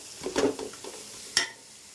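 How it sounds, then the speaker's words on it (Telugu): Masala for egg pulao frying and being stirred in a pan, with a few short scraping stirs and soft sizzling, then a sharp clink before a quiet tail. "కొద్దిసేపు మసాలా అనేది వేగనిద్దామండి"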